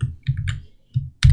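Quick keystrokes on a computer keyboard, a handful of close taps in an uneven rhythm, with no talking.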